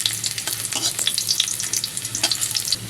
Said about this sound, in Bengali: রসুনগুলো একটু উল্টে পাল্টে নেড়ে করে ভেজে নেব।